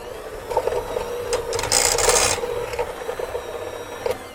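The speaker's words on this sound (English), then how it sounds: "we're going to use our trusty hand mixer to continue mixing." A handheld electric mixer whirs through a cheese mixture with Gruyere, a fairly quiet buzzing and rasping that swells into a louder stretch midway, with scraping knocks against the bowl around it.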